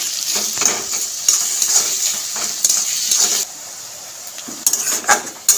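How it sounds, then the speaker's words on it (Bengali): Salted onions being stirred and fried in oil in a pan, with a bright sizzle and repeated close scraping and clinking of a spatula in irregular bursts. "পেঁয়াজটা ঠিক এরকম অল্প একটু ভেজে নেব"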